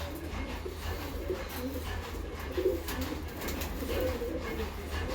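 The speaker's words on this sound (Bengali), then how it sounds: "এই যে বন্ধুরা বাড়ির একটা গিরিবাজ পায়রা" Home-kept Giribaz pigeons coo softly in low, throaty repeated murmurs, fairly faint against a steady background hum with scattered small noises.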